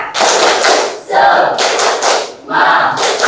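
A group of people claps and chants together in a rhythmic classroom cheer, loud and close, in several bursts of clapping mixed with shouted voices and brief pauses between rounds.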